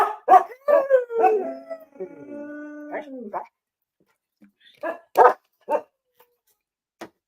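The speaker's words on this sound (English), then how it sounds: "they would not stop howling" Excited house dogs yelp and howl in a close, noisy burst, a long wavering howl in the middle, then fall to a few scattered barks with gaps of quiet between.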